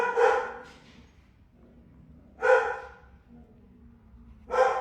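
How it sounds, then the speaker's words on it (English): A pet dog gives three loud, sharp barks spaced a couple of seconds apart, close to the microphone indoors, with quiet room hum in between. "My dog. Very loud."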